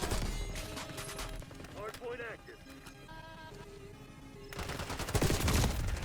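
Rifle fire from a Krig C in the Black Ops 6 game, with short bursts of gunshots mixed into busy game sounds and a speaking voice.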